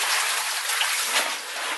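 Water draining from a cave sump into a freshly dug pit beside a dam, a steady bright trickling and splashing close by, alone and without pauses.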